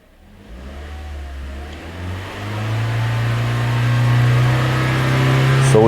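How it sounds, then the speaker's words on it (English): Toyota Corolla engine with a fuel-trim fault climbing from idle to higher RPM, a steady drone rising in pitch and growing steadily louder over several seconds, heard alone. "now I'm gonna increase the engine RPMs"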